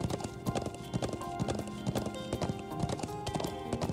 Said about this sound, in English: And get on a horse.